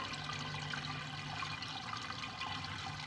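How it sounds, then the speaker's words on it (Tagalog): Water sprayed steadily to wash catfish larvae into a rearing tub, a constant dense hiss and splash, close and even in level for the whole stretch. "isprihan namin ng tubig para maubos talaga yung mga isda lahat sa pagpasok dyan"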